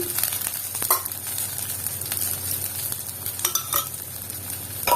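An adai sizzles in hot oil in a pan, a steady crackling fry with occasional scraping and stirring clicks close by, no talking.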